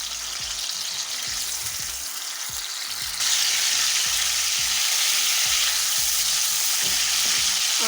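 Aloe vera pieces fry in a pan for halwa with a dense, continuous sizzle broken by rhythmic scraping strokes of stirring. The frying grows noticeably louder partway through.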